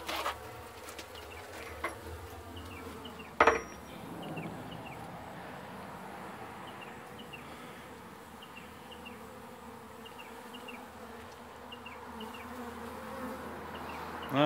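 Honeybees being removed from a wine barrel hum in a steady, dense buzz that carries the whole time, with one sharp knock partway through and a small clatter at the end, no talk.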